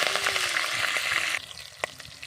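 Browned garlic and green chilies sizzle and fry in a pan while being stirred, a steady close hiss that drops quieter partway through, with a sharp clink near the end.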